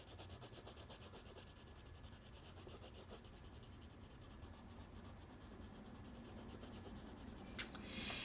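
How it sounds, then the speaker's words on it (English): A green crayon rubs steadily across paper in a soft, continuous scratchy drawing sound, close and quiet, with one brief sharp tap near the end. "And I'll use a green crayon."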